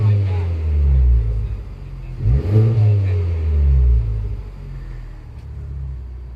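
A Honda Civic Type R FK8 with an HKS Legamax exhaust revving in rising and falling pulls, held under about 3,000 RPM, a loud close rumbling engine note with people talking over it.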